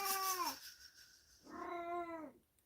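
A cat complains with two long, drawn-out meows, loud and close, separated by a short pause, with no talking.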